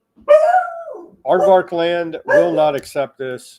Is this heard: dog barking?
yes